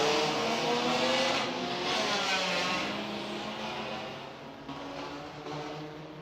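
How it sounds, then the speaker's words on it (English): Saloon race cars of the Indian Touring Car Championship roar off at a race start, a loud, dense wash of engines revving and accelerating together, holding strong before easing slightly as the pack pulls away. "the cars are released for the first race of the weekend for the Indian Touring Car Championship and the Superstocks"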